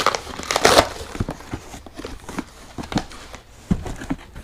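Cutting through part of a side-mount license plate bracket, a burst of harsh grinding and crunching up front followed by scattered sharp snaps and clicks, fairly close and without talk.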